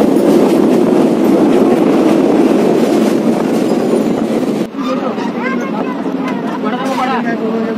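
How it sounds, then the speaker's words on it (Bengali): A passenger train running on rails at night between Naihati and Ranaghat, a loud continuous rumble and rattle of the carriage with a brief dip midway, followed by a quieter rolling stretch with faint squeaks. "নৈহাটি পেরিয়ে আমাদের ট্রেন বেশ কয়েকটা স্টেশন অতিক্রম করে এসে পৌঁছালো রানাঘাট।"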